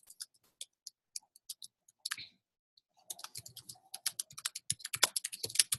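Computer keyboard typing in quick irregular bursts of clicks, sparse taps at first and then a denser, louder flurry of keystrokes, close by with no voices.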